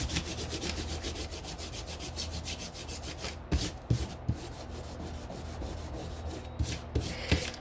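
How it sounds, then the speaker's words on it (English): Dried rubber cement is rubbed off paper at a craft table in quick, steady strokes, close and dry, with a few sharp taps near the end. "Rubber cement rubs right off."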